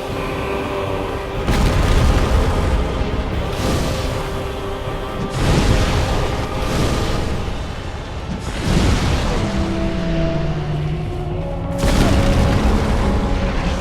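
Fiery spell blasts in Dark Souls Remastered burst as a series of loud, deep booms, about five of them in irregular succession, each with a rumbling tail and tonal game sounds mixed in.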